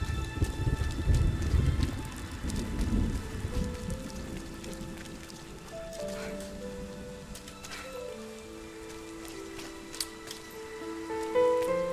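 Rain falling in the video game RIME, a dense steady patter with rumbling thunder early on, fading under soft tonal game music notes later, no voices.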